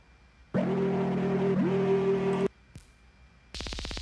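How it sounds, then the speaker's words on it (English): A synth preset from the Serum plugin plays a sustained buzzy tone for about two seconds with a pitch bend in the middle, then a short blip, then a rapid pulsing electric stutter. "throw in Serum. I'll just throw in a random like preset that I have."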